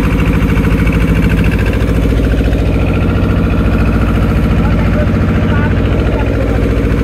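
A fishing trawler's engine drones loud and steady out at sea, a continuous low rhythmic chugging with no break from start to finish.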